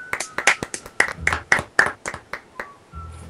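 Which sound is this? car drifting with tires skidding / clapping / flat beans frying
clapping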